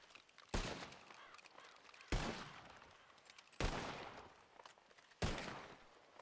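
Four sharp gunshots fired at targets in a video game, evenly spaced about a second and a half apart, each with a ringing decay and no voices.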